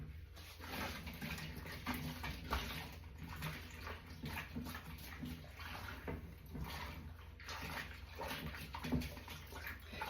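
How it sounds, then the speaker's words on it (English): A non-stick pan is washed in a bowl of soapy washing-up water, giving soft continuous sloshing and splashing with faint clinks over about ten seconds, fairly quiet and close, with no one talking. "And I can use some washing up liquid and rinse it out."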